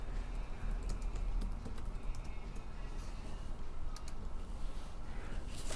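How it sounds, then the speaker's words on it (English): Rapid clicking keystrokes on a computer keyboard patter along steadily for several seconds, close and fairly quiet over a low background hum. "Let me try typing it into a translator."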